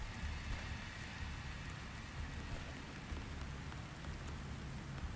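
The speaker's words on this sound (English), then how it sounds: "Oh, it's raining outside." Steady rain pours down outdoors in a creepy horror video game scene, a dense continuous hiss with a low rumble underneath, constant and even for the whole stretch with no voices.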